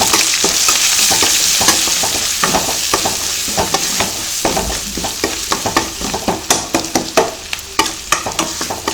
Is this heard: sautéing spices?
yes